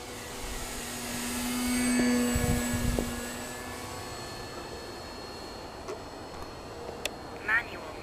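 An E-Flite Timber radio-controlled model plane flying on a January day, its electric motor whine rising and falling as it passes, with brief tonal sweeps and a few faint clicks near the end.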